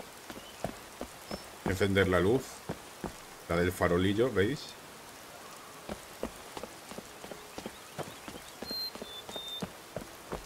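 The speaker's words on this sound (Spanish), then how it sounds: "Está lloviendo un montón." Rain falling steadily in Skyrim, a soft continuous patter with scattered drops under someone talking in Spanish in two short bursts.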